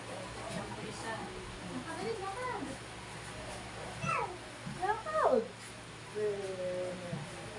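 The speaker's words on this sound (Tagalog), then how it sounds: "Ang pusa." A cat meows several times at close range, short rising and falling calls scattered among people talking in a household.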